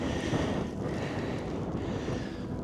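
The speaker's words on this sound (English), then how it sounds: "Oh, it's windy up here." Wind gusting across the microphone at night beside a castle, a steady broadband rush with low buffeting that stays loud and continuous throughout, with no voices.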